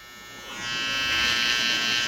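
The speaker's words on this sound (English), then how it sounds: "So I'm going to start to taper in around the ears now." Electric hair clippers tapering hair around the ears, a close steady motorized buzz that swells louder partway through and holds, with no talking over it.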